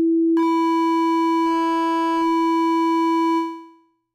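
A sine wave wavefolded in a Reaktor 6 synthesizer, a loud steady buzzy tone rich in upper harmonics, briefly brightening in the middle before fading out smoothly at the end, with nothing else heard.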